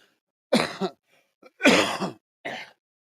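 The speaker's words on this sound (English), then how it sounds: "if you hear me coughing" Three separate coughs with short silences between them, close and fairly loud, the last one shorter and lighter.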